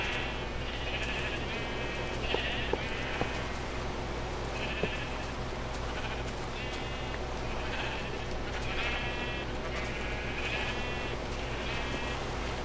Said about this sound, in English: So yeah, I've got 2 sheep there.